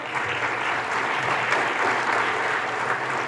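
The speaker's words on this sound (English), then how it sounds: "Round of applause." A conference keynote audience breaks into steady, dense applause that fills the room evenly from start to finish, with no talking over it.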